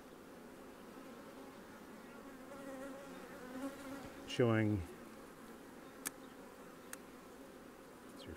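Honey bees buzz in a steady, faint hum around strong hives coming out of winter, with a short louder sound near the middle. A voice speaks briefly.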